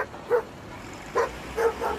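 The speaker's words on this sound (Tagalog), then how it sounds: "Ano bang problema mo, aso ka?" A dog gives three or four short, sharp barks spaced irregularly over two seconds, close and fairly loud against a quiet background.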